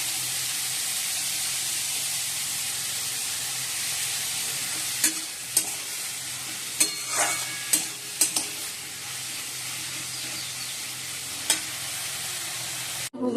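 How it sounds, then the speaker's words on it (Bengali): Onions fry with salt in a pan, giving a steady close sizzle, with a handful of sharp clinks and scrapes from stirring scattered through the middle stretch and no talking. "পেঁয়াজটা একটু ভালো ভাজি নুন দিয়ে দিই"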